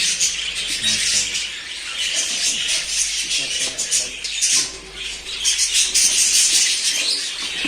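A room full of budgerigars at a breeding aviary chirps and squawks continuously and loudly, a dense overlapping chatter with occasional wing flutters and no clear talk.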